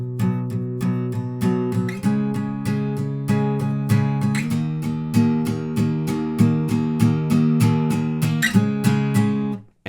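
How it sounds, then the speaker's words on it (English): Power chords on a guitar in the chorus of a song, played with all down strums in a steady, even rhythm, with the chord shape changing a few times and no voice over it. "Now, chorus 4, we're going to use the power chord shapes,"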